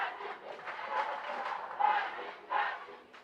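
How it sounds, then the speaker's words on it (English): Fight crowd at a combat tournament chanting for Brazil, rhythmic collective shouting in swelling waves, moderately distant in a large hall. "You can hear the crowd chanting for Brazil"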